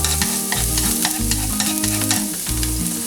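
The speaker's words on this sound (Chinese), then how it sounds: "葱蒜爆香" Scallions and garlic sizzle in hot oil in a wok for a home-style tofu dish, with a loud, steady crackling hiss punctuated by repeated stirring scrapes, and a low tonal hum running underneath.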